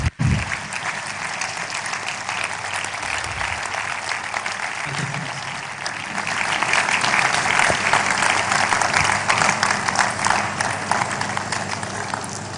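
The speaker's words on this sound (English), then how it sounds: "Can we sustain the applause, please?" An audience at a university inaugural lecture keeps up long, dense applause in a large hall, swelling louder in the second half and continuing to the end.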